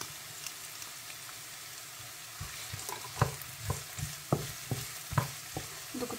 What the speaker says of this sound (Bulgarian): Чакам лукчето ми да се запържи до златисто.